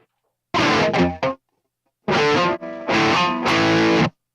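A guitar runs through an effects pedal with reverb, delay and chorus, playing two loud processed bursts of chords separated by a short silence, with no one talking.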